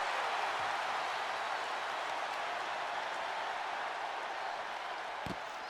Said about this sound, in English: this crowd on their feet, they love what they see here for Judgment Day